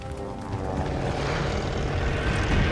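Propeller plane in Call of Duty Vanguard, set in Libya 1941, droning overhead as a broad rising engine roar that swells louder toward the end.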